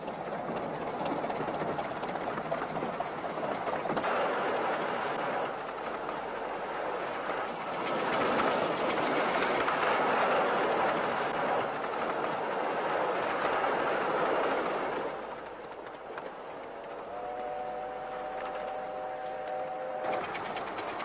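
A miniature railway train on the Romney, Hythe and Dymchurch Railway rumbles steadily along the track with rhythmic clatter for most of the stretch, then eases off as a short whistle-like tone sounds near the end.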